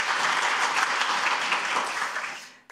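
Audience at a social-welfare policy forum gives applause for a co-representative, a thick steady wash of clapping that holds for a couple of seconds and then tapers off quickly.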